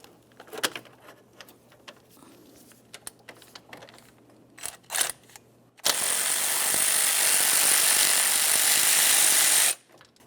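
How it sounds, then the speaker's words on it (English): A 15mm wrench loosens the shift selector rod at the transmission of a 2011-2019 Ford Explorer: scattered metallic clicks and taps, then about four seconds of loud, steady mechanical whirring. "Use a 15mm to loosen that."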